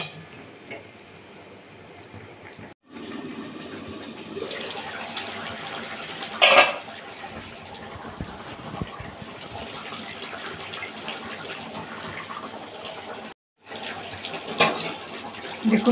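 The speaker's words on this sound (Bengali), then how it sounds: "দেখুন বন্ধুরা কি সুন্দরভাবে ফুটছে," Tilapia fish curry with cauliflower and potato boiling in a pot, a steady bubbling hiss close by, briefly cut by two short gaps and a clatter midway.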